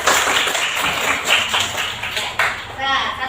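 A classroom of students gives a round of clapping for two classmates, a dense patter of hands mixed with children's voices and chatter throughout.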